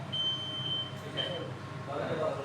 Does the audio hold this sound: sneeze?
no